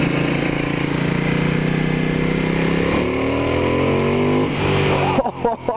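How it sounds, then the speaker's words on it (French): Ducati XDiavel motorcycle accelerating steadily through a long rising pull, engine tone climbing, then ending in a burst of crackling exhaust pops as the throttle closes, close and loud. "les petits retours quand j'accélère"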